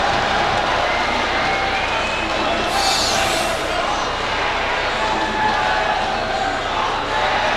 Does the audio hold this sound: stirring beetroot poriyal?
no